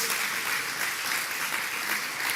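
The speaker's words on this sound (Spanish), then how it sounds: "Denle un aplauso." A church congregation claps together during a sermon, with steady, thick applause filling the room evenly from start to finish and no voices standing out.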